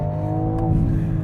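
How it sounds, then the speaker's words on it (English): A 2025 BMW M4 CS with all-wheel drive under full throttle, its engine a loud, steady low drone heard from close by, with no talking. "so that means this one shouldn't be fast at all if I floor it."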